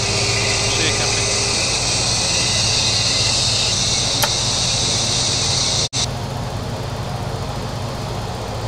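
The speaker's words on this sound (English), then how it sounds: "Start complete. Starter cutout, engine 2." Engine 2 of a Jetstream 41 turboprop spinning up in a flight simulator, a steady loud whine and drone with a hiss and a brief cutout partway through, continuing alone.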